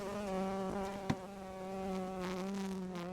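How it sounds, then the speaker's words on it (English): Honeybees buzz steadily inside an open hive as a beekeeper shakes them in, a close, continuous hum with one brief knock partway through. "we'll shake a couple more of the bees into the hive"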